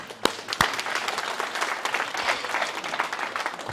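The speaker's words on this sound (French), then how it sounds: "Simon, applaudissements, Simon." An audience at a CrossFit snatch-technique session applauds, with dense steady clapping throughout and a couple of sharp louder claps near the start.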